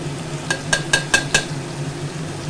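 Spices with Kashmiri red chili are sautéed in a pan, where five evenly spaced sharp metallic scrapes or taps of a utensil ring out close over a low steady sizzle.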